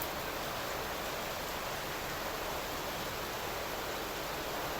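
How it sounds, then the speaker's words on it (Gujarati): Heavy monsoon rain pours down over a flooded housing society in Vadodara, a dense, even hiss that holds steady throughout, distant and soft with no voices. "વરસાદ ફરી પાછો વધ્યો છે"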